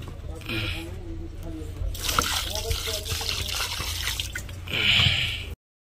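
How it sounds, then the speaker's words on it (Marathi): Water runs and splashes as chicken is rinsed by hand, with squelching, drips and someone talking over it. "थोडंसं चिकन पाण्यामध्ये धुवून घेऊया"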